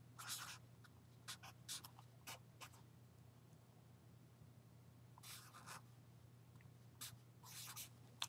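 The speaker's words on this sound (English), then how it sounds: "I could write it that way." Marker strokes writing math proportions on a classroom board come in short bursts of squeaky scratching separated by pauses, up close over a low steady hum with no talking.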